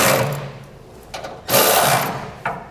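U-bolt hardware on a fifth wheel trailer hitch being tightened on a 2012 Ram 2500, heard as short, close mechanical ratcheting bursts with brief pauses between them.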